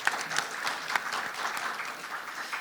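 A conference audience applauding a newly introduced journalist, steady clapping from a medium-sized crowd heard at a moderate distance for the whole stretch.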